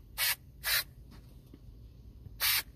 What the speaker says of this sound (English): So we're just going to spray underneath.